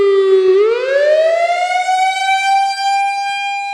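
WS 3000 warning siren sounding loud and close, its tone sweeping upward from a low start into a high, steady wail that holds to the end.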